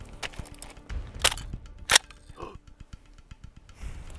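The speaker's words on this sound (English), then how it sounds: "We use our remote firing rig we have built over there that Christian made us." Gunshots from a rifle set off with a remote firing rig outdoors: two loud, sharp cracks about a second apart among smaller clicks and handling noises.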